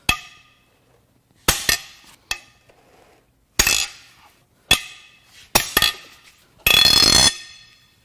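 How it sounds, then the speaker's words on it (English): Wrench cracking head bolts loose on a Hyundai Genesis 4.6 Tau V8 cylinder head: sharp metallic cracks and clanks in an uneven series of about seven, close and loud, separated by silence. "Now it's time to crack the head bolts loose."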